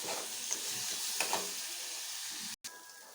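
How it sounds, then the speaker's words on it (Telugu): Turmeric and salt frying in hot oil in a pan for gongura pickle give a steady close sizzle, with a few faint stirring scrapes and a brief gap near the end, and no talk. "2 నిమిషాలు వేయించుకుందాం"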